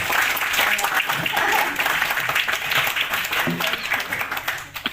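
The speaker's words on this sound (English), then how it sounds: "Applause, please." Audience applause at a gift presentation during an international symposium on Islamic architecture, a steady wash of clapping from a hall crowd lasting throughout, with some voices mixed in.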